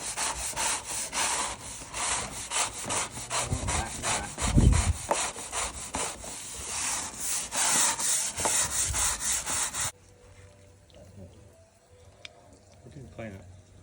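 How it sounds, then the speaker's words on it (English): Surface being scrubbed clean before waxing, with a loud, rhythmic back-and-forth rasping scrub for about ten seconds, then quiet with faint handling noise afterward. "Have a bit of scrubbing."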